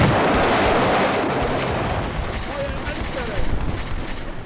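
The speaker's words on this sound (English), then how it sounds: "they have spaced some artillery barrage." Artillery barrage in the WWII video game Combat Mission: Beyond Overlord: a dense, continuous rumble of overlapping blasts and crackling gunfire, loud and sustained throughout, with a few sharper bursts near the end.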